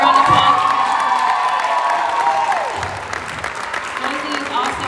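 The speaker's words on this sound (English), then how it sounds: "let's give her a round of applause" An audience at a school athletic awards ceremony applauds, cheers and whoops loudly, with a voice rising over the crowd before the noise gradually settles.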